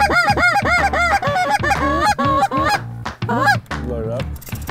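A dense flock of geese honking loudly and continuously at sunrise during a waterfowl hunt in Washington, many overlapping calls close by with a few brief dips in the chorus.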